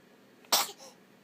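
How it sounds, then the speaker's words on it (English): An eight-week-old baby lets out a single short, sharp sneeze up close, with a softer breathy tail after it, in an otherwise quiet room. "Are you the sneezing baby?"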